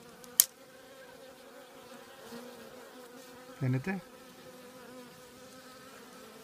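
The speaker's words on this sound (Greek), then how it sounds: "Εδώ κάτω είναι μια μπάλα από λίγες μέλισσες" A small cluster of honey bees balled together outside the hive keeps up a steady, close insect buzz throughout, with a brief sharp knock near the start and a short louder burst partway through.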